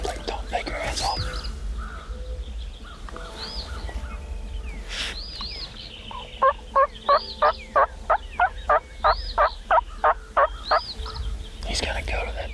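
A wild turkey on an Iowa hunt gobbles repeatedly at close range, with a run of rapid, evenly spaced pulses, spitting and low drumming between the calls, loud and clear over the quiet outdoor background.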